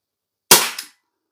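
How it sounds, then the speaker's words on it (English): A Crosman Vigilante CO2 revolver fires a single BB through a chronograph, one sharp, loud pop with a quick decaying tail and a small echo, set against silence. "So now we're going to put about 4 BBs through it"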